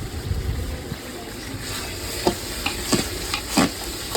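Tomatoes cook in oil with salt in a pan, stirred so that a soft sizzle sounds under repeated scraping strokes, close by and without speech.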